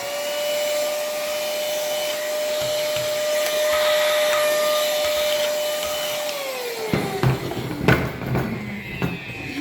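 A vacuum cleaner hoovers up dust from filing the edges of a monster build, a steady loud whine that drops in pitch near the end, followed by knocks and handling noises.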